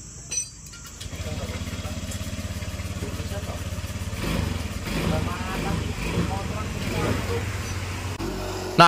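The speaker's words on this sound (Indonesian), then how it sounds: "jadi motor Vario ESP ini dia langsung hidup dengan menggunakan sekali tombol starter" Honda Vario ESP scooter engine fires up on the electric starter around the one-second mark, then settles into a steady, close idle that rises briefly in revs, with a clunk at the very end.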